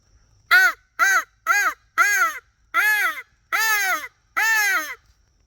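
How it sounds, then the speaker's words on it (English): Seven loud, harmonic caws from a crow call blown close by, evenly spaced in a steady rhythm, with quiet pauses between them. "Cute little crow call."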